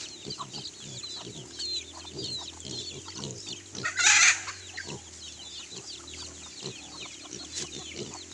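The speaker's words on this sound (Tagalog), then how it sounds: "So native yung kanilang mga manok." Many native chickens cluck busily nearby on a Philippine farm, with a rooster crowing loudly partway through.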